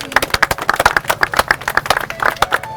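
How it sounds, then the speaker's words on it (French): A small audience at a televised show claps in a loose, uneven rhythm, the individual hand claps distinct and close, with no talking over them. "On applaudit."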